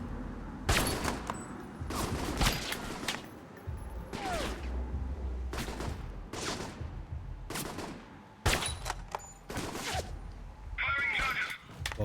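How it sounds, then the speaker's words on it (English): Repeated bursts of gunfire in the video game Alpha Protocol, a dozen or so sharp volleys and shots spread across the span with brief gaps between them, loud and close, plus a brief higher whine near the end. "Who's shooting at me?"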